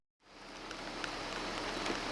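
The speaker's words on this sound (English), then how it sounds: "It started raining." Steady rain falls in the mountains around Mestia, Georgia, starting abruptly as an even, close hiss of drops that continues loud and unbroken with no voices.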